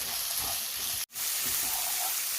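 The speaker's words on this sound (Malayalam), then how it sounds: "ഇനി നമുക്കിതൊന്ന് വഴറ്റിയെടുക്കാം. നന്നായിട്ട് വഴന്ന് കിട്ടണം, എന്നാലേ കറിക്ക് ടേസ്റ്റ് കാണത്തുള്ളൂ." Onions for a toddy-shop-style chicken curry sizzle loudly and steadily in a pan, a broad close frying hiss broken by one abrupt instant of silence midway before resuming.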